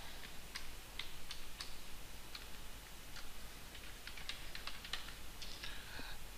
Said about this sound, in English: Go ahead and type in the password.